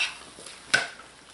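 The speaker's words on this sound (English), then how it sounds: "I just stir them back in and" A spoon stirs thick hot process soap in a crockpot, giving a single close scrape against the pot's edge within a short, quiet moment.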